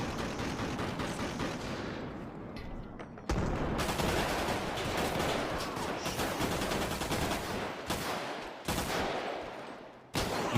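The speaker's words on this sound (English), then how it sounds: "They started shooting the place up, leaving nobody alive." Sustained automatic gunfire in a GTA roleplay video game shootout, dense rapid bursts of shots filling the clip, loud and continuous with brief breaks, no talk.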